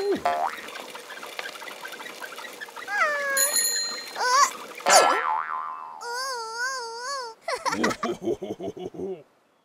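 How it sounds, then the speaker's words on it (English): A bicycle bell rings among a string of bright cartoon boings and pinging tones that wobble and bounce in quick succession, loud and close, before cutting off abruptly. "He rings his bell when he passes people on his bike."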